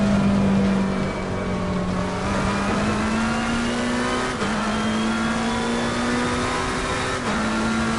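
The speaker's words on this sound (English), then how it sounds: "This McLaren did not like going over them curbs." A McLaren race car runs flat out in Assetto Corsa Competizione, its engine droning at a steady pitch and climbing slightly, with a few sharp jolts as it rides over the curbs.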